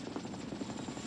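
A rescue helicopter hovers during a hoist operation, its rotor thumping in a fast, steady rhythm under a constant loud engine whine.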